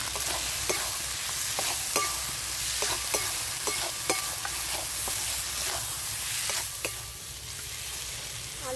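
Boiled potato is stir-fried with ginger in a pan for egg curry, a steady close sizzle punctuated by regular clicks and scrapes of a spatula against the pan, with no voices.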